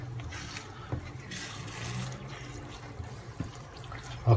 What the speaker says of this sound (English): So we just put a little bit more hot water in.